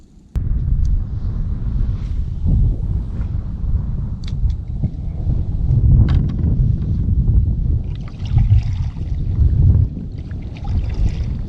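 Strong wind buffets a kayak out on a lake during a pre-spawn bass fishing tournament, a loud, steady low roar of gusts that stays constant throughout.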